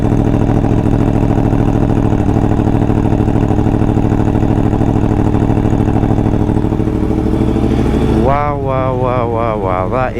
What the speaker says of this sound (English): Obviously this is very well regarded as one of the greatest sounding engines, and in my opinion it for sure is.